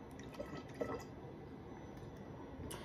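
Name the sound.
cold water being poured in while making mead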